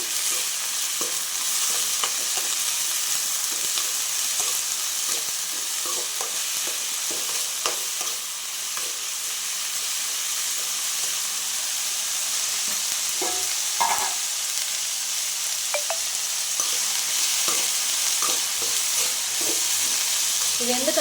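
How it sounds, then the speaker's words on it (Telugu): Ivy gourd pieces frying in a pan, a steady loud sizzle running throughout with scattered scraping taps as the pieces are stirred; no talking. "దొండకాయలు కూడా వేసుకునేద్దాం ఇవి వేగడానికి అయితే టైం పడుతుందండి"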